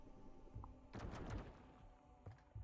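Explosion in the video game Core Keeper: a sudden burst of noise that rumbles and fades over about a second, followed by a couple of smaller knocks, with no talk.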